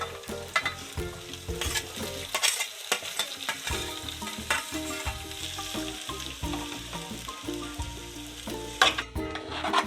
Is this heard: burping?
no